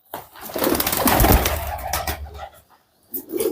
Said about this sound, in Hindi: ज़बरदस्त उड़ान के ये कबूतर हैं